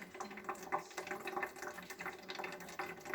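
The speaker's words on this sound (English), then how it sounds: "pour a little bit in at a time" Boiling water is poured a little at a time into a bottle, producing a faint, continuous splashing trickle throughout with no voices.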